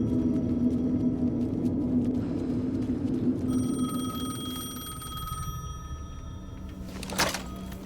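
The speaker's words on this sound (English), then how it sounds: "The payphone was ringing." A payphone rings in Alan Wake 2, a metallic electronic trill starting midway over a low rumbling ambience, followed by a sharp clack as the handset is lifted.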